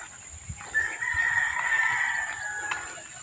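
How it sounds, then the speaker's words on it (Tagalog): A rooster crows once in a long, drawn-out call on a morning walk outdoors, moderately loud and fairly close, over a steady background hiss with faint footsteps. "Masarap ang tunog ng umaga. Tumitilaok ang manok."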